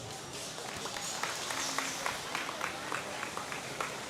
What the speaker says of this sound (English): Give them guys a nice round of applause